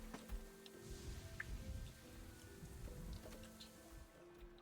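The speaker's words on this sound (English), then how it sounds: "It totally flooded from the rain." Rain falls in the Nova Roma video game, a steady soft patter with scattered ticking drops spread evenly across the whole stretch, moderately quiet with no talking.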